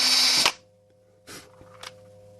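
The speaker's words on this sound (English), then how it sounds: "Drill straight in" A power drill bores through a plastic game controller shell in one loud, close burst, then stops, followed by a couple of short clicks and handling knocks in a quiet room.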